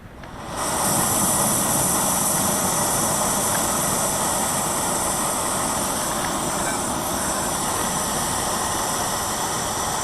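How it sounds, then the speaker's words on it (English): A backpacking stove fired up at a camp in Yosemite, a loud, steady roaring hiss that starts abruptly and burns evenly throughout, close by, with no talking. "So I'm going to fire up my stove here."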